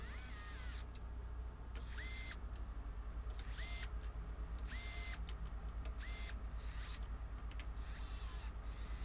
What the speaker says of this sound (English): The DeWalt gyroscopic screwdriver.